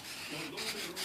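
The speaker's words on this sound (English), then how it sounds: "You can sand it really nicely into like any shape and form you want" Foam being sanded into shape for a diorama brick wall, giving a steady close-up rubbing rasp that continues for the whole moment with slight surges.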